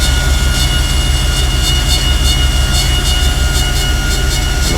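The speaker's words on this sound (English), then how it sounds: "You hear the hydraulic pump come on." A generator and hydraulic pump run steadily on a 1994 Chevrolet bucket truck, giving a loud, continuous engine-like hum with a low rumble and no break across the clip.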